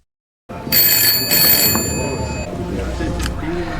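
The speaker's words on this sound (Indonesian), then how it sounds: "bartender itu menerima telepon dari Victoria." A telephone rings in a bar, two bright electronic ring bursts starting abruptly and then fading into murmuring room noise with voices and clatter.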